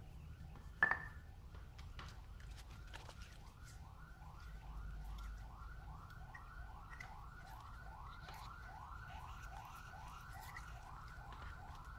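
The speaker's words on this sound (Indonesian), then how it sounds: "Kalau Anda mendengar ada suara seperti ambulan itu bahkan hampir setiap hari" An ambulance siren wails steadily in a fast repeating rise-and-fall pattern, heard from a distance over low traffic rumble, with a brief click near the start.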